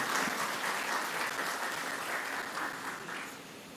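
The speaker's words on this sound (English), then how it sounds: "Give him a round of applause." An audience at the Mayaro Divali dinner and cultural event applauds Rodney Charles, Member of Parliament for Naparima, with a dense, steady wash of clapping that gradually tapers off toward the end.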